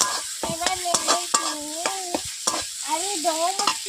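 Potato, eggplant and bitter gourd are stirred through hot spiced oil in a pan, with repeated scraping strokes of a spatula in an uneven rhythm over a constant close sizzle.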